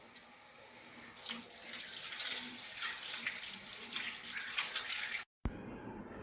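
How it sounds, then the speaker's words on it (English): Cold tap water runs steadily into a sink while silverware is washed with dish liquid, a close, continuous splashing flow that cuts off abruptly near the end. "So let us neatly wash it with Pril liquid and cold water."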